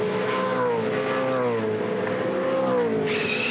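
V8 Supercars racing at the 2009 Sydney 500, high-revving engines whining loudly and shifting pitch as cars pass close by, with a brief higher note near the end.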